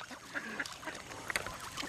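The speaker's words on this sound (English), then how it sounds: "Look at it, it's hissing." Goose or duck at a bird sanctuary hissing at close range, with breathy bursts over an outdoor background and a few sharper honk-like calls partway through.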